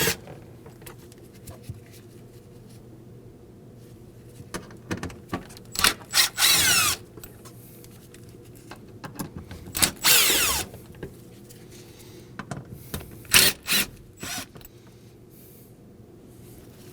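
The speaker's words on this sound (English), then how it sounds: "we're going to take out these 4 Phillips head screws" A power drill backs Phillips head screws out of the panel over the fuel pump in a 2013-2015 Subaru XV Crosstrek, with several short, sharp whirring bursts separated by quieter gaps of handling noise.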